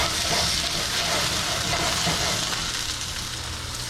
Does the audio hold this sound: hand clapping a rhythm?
no